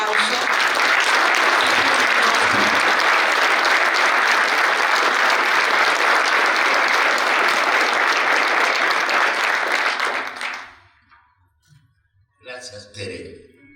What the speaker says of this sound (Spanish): que pido que lo recibamos con un gran aplauso